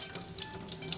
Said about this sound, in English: We wash the rice.